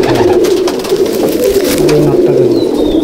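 Breeder pigeons in a loft coo in a thick, unbroken murmur, a few nearer birds giving distinct rolling coos over the crowded background.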